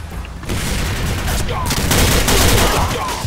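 Rapid, continuous M4 rifle fire in the online shooter game Battery Online, loud and sustained with dense overlapping shots and no pauses.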